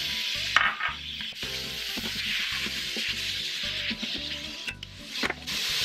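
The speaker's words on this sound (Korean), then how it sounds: "이건 지금 양지인데 국거리용이나 뭐 있, 으신 고기 아무거나 이렇게 넣고 볶아줄 거예요" Beef brisket stir-fries in oil inside an Instant Pot, a continuous sizzle with repeated scraping and stirring strokes of a utensil against the pot, close and fairly loud.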